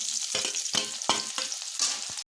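Onion and green chillies frying in hot oil in a pan, a dense close sizzle broken by repeated scraping strokes of a stirring spoon about every half second, cutting off abruptly at the end.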